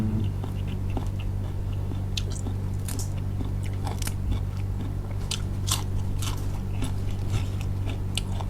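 Close-up crunchy bites and chewing of fresh raw eggplant eaten with Thai shrimp paste chili dip, repeated crisp crunches over a steady low background hum with no talking.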